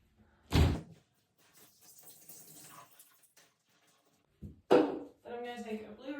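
A glass shower door swings shut with a sharp knock, then a second louder thump a few seconds later, with soft rustling and water sounds between.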